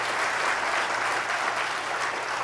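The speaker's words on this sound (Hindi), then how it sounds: "दरबार में आनंद आ रहा हो तो ताली बजा दीजिए" A large crowd at a religious darbar gathering at Pandokhar Sarkar Dham claps in a dense, continuous wash of applause, steady and loud throughout.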